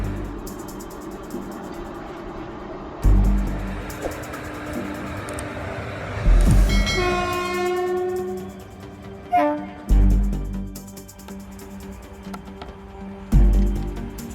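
A train rumbles past with a long, loud horn blast rising over the clatter, followed by heavy rolling noise and thumps.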